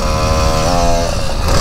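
Honda XRE motorcycle engine revving in a video game, a loud, steady, close buzzing drone whose pitch rises and shifts as the throttle climbs, with no talk.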